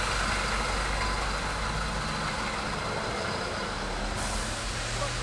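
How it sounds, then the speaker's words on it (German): A garbage truck squeezes along a narrow street in Bucharest lined with parked cars, its heavy engine droning loud and close in a steady, unbroken rumble with a hissing, air-brake-like edge. "wenn die Müllabfuhr durchkommt, kommt alles durch"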